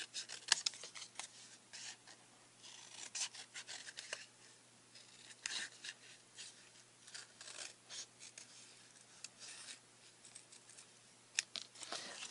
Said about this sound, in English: I usually just spear it with the tip of the scissors and just lightly start trimming